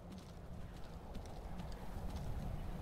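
Horse hooves clip-clopping in the video game Skyrim while the horse climbs over mountains, a steady soft patter of steps under a dense, continuous low rumble of game ambience, with no talking.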